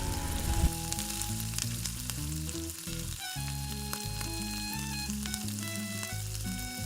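French fries, cut thick like wedges, fry in hot oil with a continuous bubbling hiss that sits beneath louder music playing over it the whole time.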